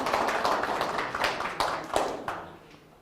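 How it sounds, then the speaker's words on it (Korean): An audience at a pear growers' cooperative training session claps together, a dense patter of hands that swells and fades out over a few seconds, recorded in a hall. "박수 한번 쳐주셔야죠"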